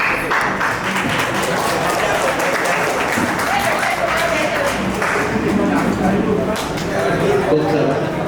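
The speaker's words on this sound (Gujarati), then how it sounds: "ખૂબ તાળીઓના ગડગડાટથી વધાવી લઈએ ભવ્યને" An audience at an annual community gathering gives loud, continuous applause, a thick roar of clapping that holds steady throughout, with voices and a faint tune mixed in underneath.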